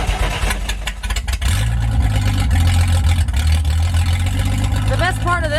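An old Nash car engine runs with no exhaust pipe, exhaust blowing out through the floor, a loud, rough, throbbing idle close to the microphone, with a person talking over it.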